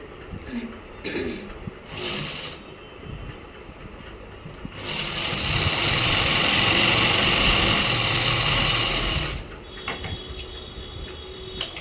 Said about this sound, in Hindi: इधर वाला भी ऐसे ही इधर से सिल देंगे आसन को।